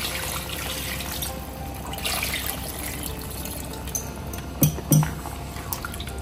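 Water pours steadily into a pot of chicken masala for a chicken Chettinad curry, a continuous close splash and rush with a couple of louder glugs near the end, and no talking.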